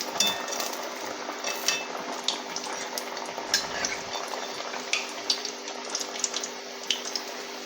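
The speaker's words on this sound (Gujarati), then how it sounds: "તો આ રીતના આપણે ઉલટ પુલટ કરીને વડાને આપણે તળી લઈશું." Maize flour vadas fry in oil over a slow gas flame while being turned over, giving a continuous soft sizzle scattered with small crackles and light clicks of the spatula against the pan.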